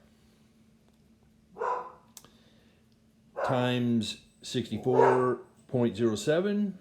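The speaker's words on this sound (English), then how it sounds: "that's my dog barking" A pet dog barks indoors in a few short bursts, near and fairly loud, with a faint faraway yelp before them and a steady low hum underneath.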